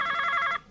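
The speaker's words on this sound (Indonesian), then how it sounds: "Telepon dari Bank Semesta, Pak." An office telephone bell rings in one continuous burst of rapid, bright trilling, loud and close, then cuts off abruptly with no voices over it.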